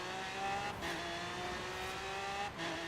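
A Tesla Model S in Forza Horizon 3 slides with sustained tire squeal as its electric drive whines steadily, with brief bursts of skidding noise over a continuous engine-like hum.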